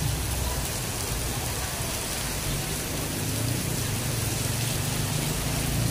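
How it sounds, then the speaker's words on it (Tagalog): Steady, dense rain falling on surfaces outdoors in General Trias, Cavite, a continuous close downpour with no talking. "inabot tayo ng ulan dito sa Pascam-2, General Trias"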